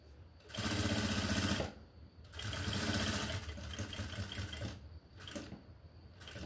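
Sewing machine stitching a blouse, running in loud rapid bursts of mechanical chatter separated by short pauses, close by and with no voices over it.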